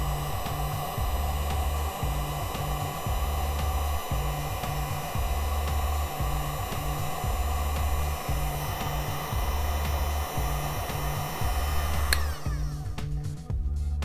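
A handheld hair dryer blows steadily on a foam-backed decal, a continuous close whooshing hum with a rhythmic low pulsing, cutting off near the end.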